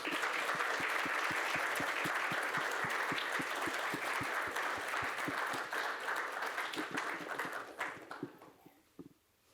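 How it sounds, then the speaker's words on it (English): Board meeting audience applauding a group of kids, a steady round of clapping with a few louder close claps, gradually thinning out and stopping. "Let's give all the kids one more round of applause."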